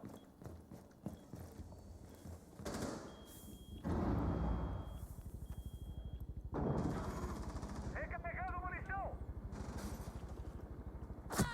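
Rapid gunfire through a wall in a Rainbow Six Siege pro league match, bursts of shots under a commentator's continuous talk.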